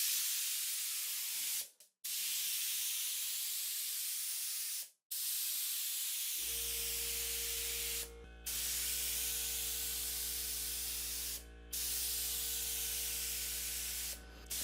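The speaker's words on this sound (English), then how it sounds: "I just give it that extra protection and give the whole table a spraying" Long continuous hissing bursts of a paint spray gun finishing a wooden table, broken by a few short pauses, with a steady low compressor hum joining partway through.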